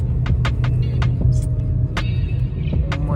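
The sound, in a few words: heavy road traffic at Chakan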